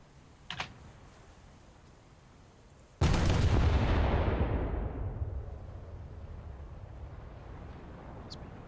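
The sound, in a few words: ship gunners firing at a target in video game War Thunder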